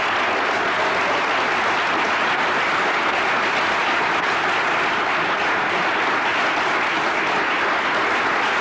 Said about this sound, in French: je crois qu'on peut quand même applaudir l'équipe de Lens.